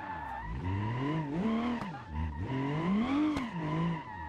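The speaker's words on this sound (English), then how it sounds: "We're drifting." A drift car with a damaged bumper, hood and fender slides around a tight karting track, its engine revving in rising and falling sweeps with tire squeal throughout, loud and close.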